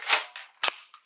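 A toy gun fired empty gives a few quick sharp snapping clicks, close and fairly loud, with short gaps between them and no talking.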